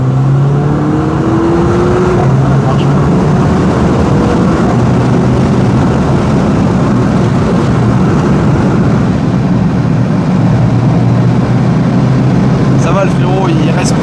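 A car accelerates hard on a road, its engine droning loudly and steadily throughout while people talk inside the cabin over the noise.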